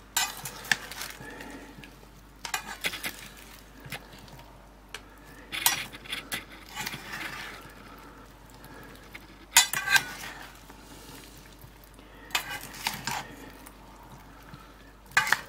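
A Greek salad with feta cubes is tossed in a bowl, with bursts of clinking utensils and soft mixing scrapes in several separate rounds and quiet pauses between them, close and without talk.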